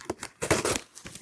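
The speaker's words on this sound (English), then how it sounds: "All right, so opening the box" Packing tape is ripped and crinkled off a tightly taped cardboard box holding new Swatch watches, a few quick loud tearing bursts over about a second.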